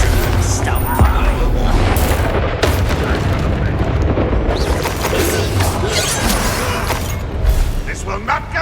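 Confringo blasting spells in Hogwarts Legacy, dense rumbling booms and crashing bursts packed continuously through a loud battle, with voices shouting over the din.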